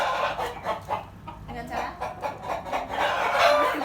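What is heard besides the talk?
chickens clucking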